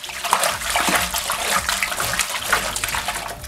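Wine sediment and wood chips from a home wine kit are stirred in a bucket, giving a steady close sloshing and swirling of liquid with small splashes throughout.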